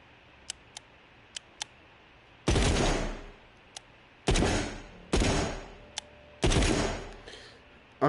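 Assault rifle gunfire in a video game, four loud sharp bursts with quick decaying tails, set between small clicking ticks and short pauses, close and clear with no talk.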